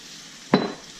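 A short burst of sizzling and stirring as chicken fried rice hits an oiled pan on low heat, a single sharp onset fading over half a second with no talking.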